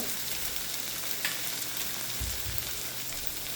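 Spices frying in hot oil with ginger-garlic paste for dal khichdi, a steady close sizzle with a couple of low bumps from the pan, no talking.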